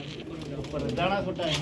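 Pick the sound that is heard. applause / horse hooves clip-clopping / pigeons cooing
pigeons cooing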